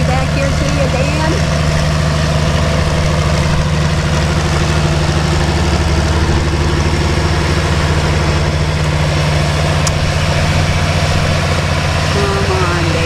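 A Full Throttle Farmall pulling tractor runs at a tractor pull in the Great Plains, its loud, steady engine drone filling the scene while an announcer talks over it.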